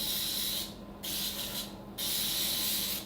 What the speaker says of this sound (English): So just a light spray.